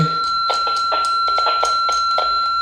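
A Redell DL-5108 radio receiver on an external antenna plays loudly and steadily, with sustained tones and quick rhythmic bell-like pulses throughout.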